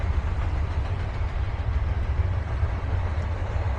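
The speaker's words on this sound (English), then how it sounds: "We were hoping for some train action and we got it." A train passes near a Calgary park, producing a steady low rumble and clatter of rolling cars that stays fairly close and constant throughout.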